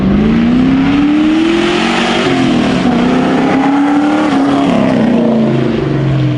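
A Ford Mustang 4.6-litre two-valve V8 engine rumbling loudly and continuously as the car drives, pitch rising and falling gently with throttle, close and unbroken.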